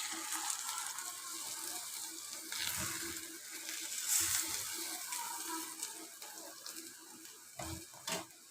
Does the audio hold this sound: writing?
no